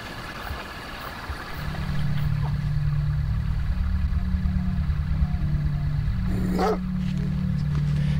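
A dog barks repeatedly at a private house beside a swimming pool in Serbia, mid-distance over a steady low hum from about two seconds on, with a brief rising whistle-like sound near the end.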